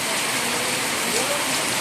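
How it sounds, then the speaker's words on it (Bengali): Heavy rain pours down in a waterlogged street where vehicles stand in floodwater, a dense, loud, unbroken roar of falling water close around. "দেখো কি জোর বৃষ্টি পড়ছে"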